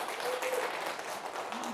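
Brief burst of audience applause and cheering from seniors welcoming a lecturer at a humanities talk in Gwangju, moderately faint and continuous, with some speech mixed in.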